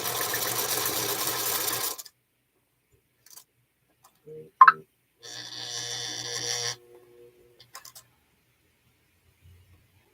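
A featherweight sewing machine run by foot control stitches a quilt block in short separate bursts, a long run at the start and another midway, with clicks and pauses between them.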